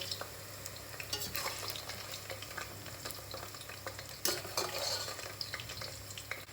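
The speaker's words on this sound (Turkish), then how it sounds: "Patlıcanlarımız kızardı." Eggplants frying in a pan, with a soft, steady sizzle and scattered clicks and scrapes of stirring, heard close but faint and with no speech.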